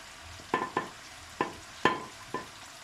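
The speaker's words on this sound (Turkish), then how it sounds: "Domateslerim ve biberlerim kavrulmaya başladı." Tomatoes and peppers fry in a pan as a utensil knocks against it five times in a loose rhythm over a soft, quiet sizzle.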